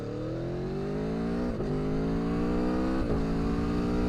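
Aprilia Tuono 1100 Factory motorcycle engine pulling hard while riding, a rising rev through gears with two brief shift dips, loud and close with no talk.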